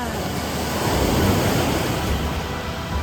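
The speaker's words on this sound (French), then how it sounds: "On entend les vagues." Steady wash of ocean surf rolling onto a shore in Naples, a dense, continuous hiss that swells slightly in the middle, with some wind noise.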